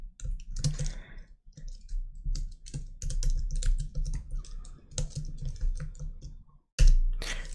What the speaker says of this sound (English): so we are just typing opened URL